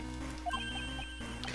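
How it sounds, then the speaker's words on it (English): A short cell phone ringtone plays in the Ace Attorney Investigations 2 video game, a quiet run of electronic tones over a low game backdrop. "that's a crap ringtone"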